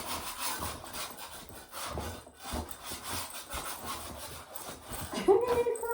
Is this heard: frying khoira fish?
no